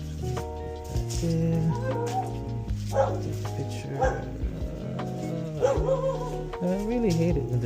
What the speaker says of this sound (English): I really hate it when there's dogs.